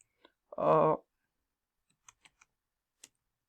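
Sparse computer keyboard keystrokes while typing Java code: one short burst of clicking, then a few isolated, quiet taps spaced apart in near silence.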